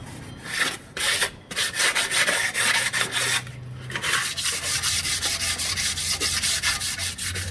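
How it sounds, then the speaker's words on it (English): Fine 600-grit sandpaper is rubbed over a low-profile oil pan in steady, loud back-and-forth strokes, close up and continuous, with a brief pause near the start. "That's some really fine sandpaper."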